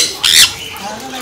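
A single harsh parakeet squawk, short and loud, close by, followed by quieter background noise.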